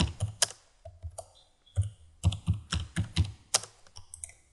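Quick bursts of key clicks on a computer keyboard as a comment is typed into a 12d Model survey map file, close and crisp, irregular rhythm with short pauses between words.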